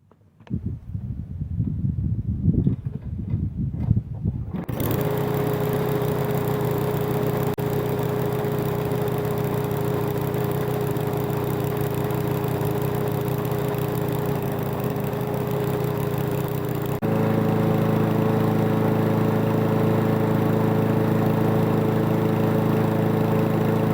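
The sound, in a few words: lawn mower engine test run after carburetor cleaning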